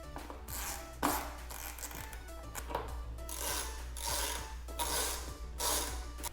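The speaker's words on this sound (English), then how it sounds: "Now you can reinstall the seat bolts." A ratchet clicks in repeated close bursts while seat bolts are run back into a 2021 Suzuki DRZ400SM motorcycle, the rhythmic mechanical strokes steady and fairly loud, with no talking.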